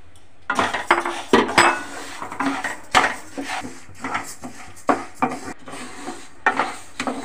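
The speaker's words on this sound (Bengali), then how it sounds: "ডালটা ভালো করে ভেজে নেব।" Moong dal dry-roasting in an empty kadai, a spatula scraping and knocking against the metal in irregular strokes, with light grainy rattles between the louder clatters.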